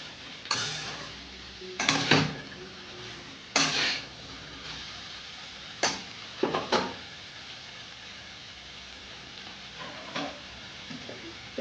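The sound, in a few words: stirring pui greens and shrimp in a pan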